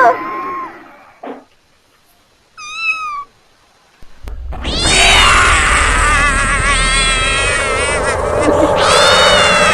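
In a Tamil comedy sketch, a cat meows twice, close and clear, against a quiet room. After a short pause a loud, busy stretch of mixed noise and voices starts up.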